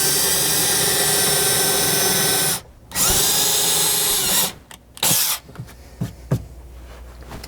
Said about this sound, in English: I'm going to continue to drill and apply a little bit of pressure down in here as well to make a mark on the metal behind there